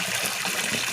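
Chunks of banana tree trunk dropped into a bowl of salted soaking water, giving a brief, close, steady wash of splashing and sloshing liquid with no voices.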